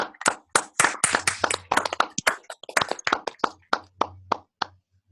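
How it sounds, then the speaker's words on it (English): Sparse audience clapping at an association congress, with distinct individual claps in an uneven rhythm, close and crisp, thinning out toward the end rather than building into a full roar. "I just wanted to give you know, this group a really big round of applause for what they're doing."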